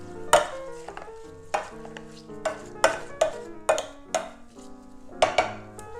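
A spoon stirs an egg bake mixture with red and green vegetables in a bowl, giving repeated loud scraping clinks at an uneven rhythm with ringing tones between strokes, close up and without talk.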